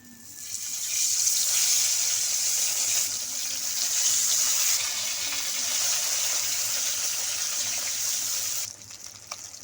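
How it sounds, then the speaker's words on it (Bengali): Loud, steady sizzling of rohu fish frying in hot oil, heard up close for several seconds before dropping off abruptly near the end. "তেল গরম হয়ে গেছে এবার আমি মাছগুলো দিয়ে দিচ্ছি তেলের মধ্যে"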